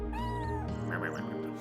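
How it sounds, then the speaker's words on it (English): A cartoonish cat meows inside the video game Chrono Cross, one drawn-out mew over a steady game music bed, fairly close and clear. "There's another kitty."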